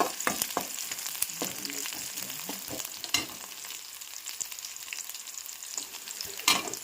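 Chopped onion sizzles steadily in a hot pan as the base for an okra curry, with a broad frying hiss throughout and scattered sharp clicks of a spoon stirring against the pan, no voices.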